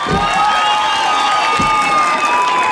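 A young audience at a live cumbia concert claps and cheers as one continuous loud wash of applause, with shouts mixed in and a few dull thumps underneath.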